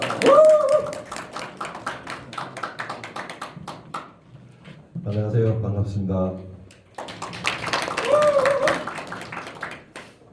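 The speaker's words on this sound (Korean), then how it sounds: "뜨거운 박수 부탁드리겠습니다." Audience applause at a business seminar welcoming the Korea branch head onto the stage, bursts of clapping in a hall, with the speaker greeting the crowd over and between the claps.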